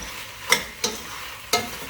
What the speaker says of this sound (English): So now we're gonna add the okra. Okras in. Stir them up a little bit.